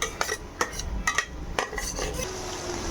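Meat, aromatics, hotdog, bouillon cubes and pasta water being stirred in a pan for spaghetti, with a utensil scraping and clinking sharply against the metal several times in an irregular rhythm, close and moderately loud.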